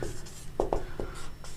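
Marker or chalk strokes on a board as partnership figures are written, a few short distinct scratches in quick succession, close and fairly quiet.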